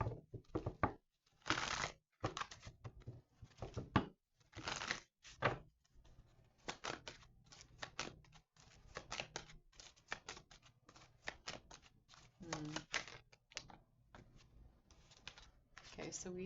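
Tarot cards are shuffled in quick, crisp riffling bursts with rapid clicking flutters, close and fairly faint, while a voice talks intermittently.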